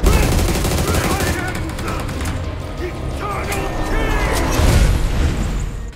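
Rapid automatic rifle fire from an M416 in the mobile battle royale game BGMI (PUBG Mobile), with dense bursts and booming shots filling the whole stretch, loud and continuous with a brief lull mid-way.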